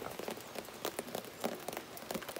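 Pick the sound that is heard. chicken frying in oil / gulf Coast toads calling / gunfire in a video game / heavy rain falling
heavy rain falling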